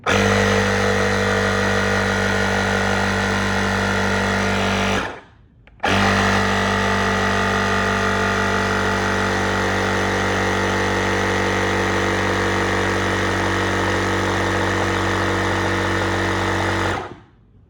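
A Gooloo A7 jump starter and air compressor inflating a deflated dirt bike tire to 30 psi, a loud steady buzzing motor drone running close up, briefly cutting out and restarting before stopping.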